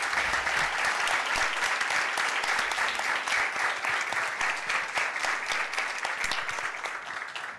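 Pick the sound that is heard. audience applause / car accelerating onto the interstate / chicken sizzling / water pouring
audience applause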